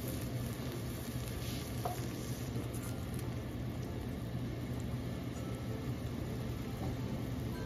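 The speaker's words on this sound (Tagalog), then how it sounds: "Pakukuluan muna natin yan para lumambot yung pork natin." Steady, unbroken bubbling hiss of pork boiling in a covered pan of water, close up and constant throughout, with no talking.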